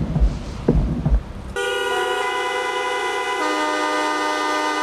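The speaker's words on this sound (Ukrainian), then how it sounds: "Разом із водіями усієї країни натисни на сигнал клаксону в пам'ять загиблих в автокатастрофах." Car horns blare together in a memorial for road-crash victims in Khmelnytskyi, a sustained chorus of overlapping tones that starts suddenly after a brief noisy lead-in and holds loud to the end.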